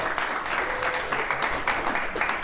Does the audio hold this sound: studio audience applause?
yes